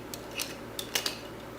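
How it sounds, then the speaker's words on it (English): Scissors snip the tail of a ribbon for a wreath, with a few quiet, crisp cuts spaced unevenly over a faint background. "I'm going to cut the tail of my ribbon a little bit so I can just make a little loop"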